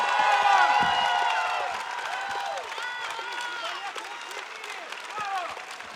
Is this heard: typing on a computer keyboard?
no